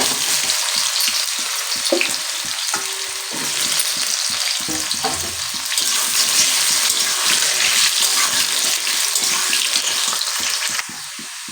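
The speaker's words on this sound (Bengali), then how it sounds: "এবারে আমার আলুটা কিন্তু ভাজা হয়ে গেছে, হালকা কালার চলে এসেছে।" Potato pieces fry in hot oil in a pan, a steady loud crackling sizzle running throughout with occasional scraping stirs and no talking.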